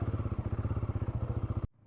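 A Royal Enfield Guerrilla 450 motorcycle engine runs with a rapid, even thumping beat, close and fairly loud, then cuts off abruptly near the end, leaving a brief low rumble.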